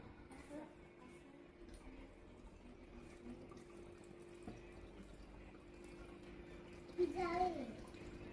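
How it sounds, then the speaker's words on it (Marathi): Water falls steadily at a small waterfall, a faint continuous rush, with a child's and an adult's voices briefly rising over it near the end. "कसं पडतंय छान छान पाणी."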